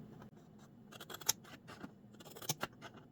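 Scissors snipping card stock to miter edges for a Christmas accordion fan box card, a few close, sharp cuts in short clusters with quiet gaps between.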